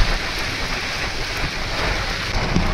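Steady, dense rain hisses continuously close by, a broad wash of patter with no voices.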